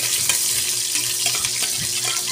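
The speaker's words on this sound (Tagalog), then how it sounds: "magigisa tayo ng luya at saka bawang" Ginger and garlic sautéing in a pan give off a steady, close crackling sizzle, with faint clinks and stirring scrapes over the hiss and no talk.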